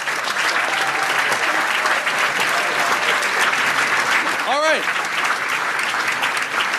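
Steady clapping from a crowd at a New York City town hall with a congressman continues for several seconds, loud and even, while someone speaks briefly over it.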